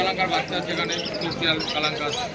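Pigeons at an outdoor pigeon market in Birnagar, including black, green and Madras birds, coo softly in overlapping calls beneath steady nearby talk and market chatter.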